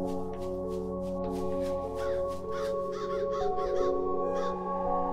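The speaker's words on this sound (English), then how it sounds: "The crows! The crows. They are circling." Crows cawing in the video game Eidolon, a string of harsh repeated caws from several birds over a steady low ambient drone, with no talking.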